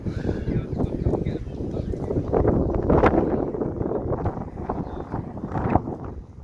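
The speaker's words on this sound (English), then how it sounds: "because it is quite windy out here." Steady wind blowing hard across the microphone, a continuous low rumble with gusts swelling and easing throughout.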